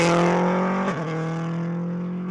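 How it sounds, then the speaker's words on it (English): An Audi rally car races on asphalt, its loud engine note holding steady high and then dipping briefly as it shifts gear or lifts, before carrying on strongly near the listener. "With the Audi making all the right noises, David Kynaston was still going well in 3rd"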